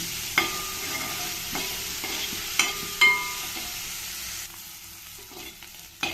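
Cauliflower pieces sizzle steadily as they fry in oil in a pan, with a few sharp clatters of stirring against the pan, and no voices.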